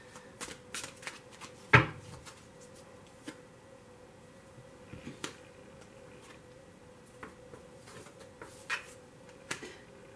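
Hermetic Tarot cards being shuffled and dealt by hand, soft scattered flicks, snaps and riffles at close range, with one sharper slap as a card is set down, in an otherwise quiet room.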